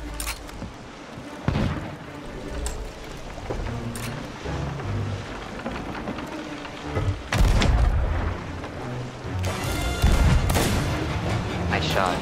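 Repeated heavy booms of ship cannon fire in the game Sea of Thieves thud through a noisy game soundscape, several blasts spaced irregularly, loud and close, with scattered talk.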